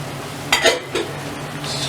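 A spoon scrapes and clinks a few times against a pot while boiled black chickpeas are mixed in for chana masala, two or three short close stirring knocks over a quiet kitchen background.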